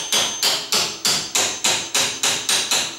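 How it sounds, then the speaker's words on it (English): A hammer taps steadily on a painted wooden door while a sagging door is repaired, about nine crisp, evenly spaced strikes, loud and close with no talk. "Now I can take my hammer, and don't hit with your metal, I just use the bottom."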